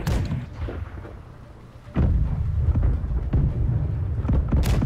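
Heavy booming ship cannon fire in the pirate naval game Blackwake, several deep thuds rolling together over a continuous low rumble, loud and close.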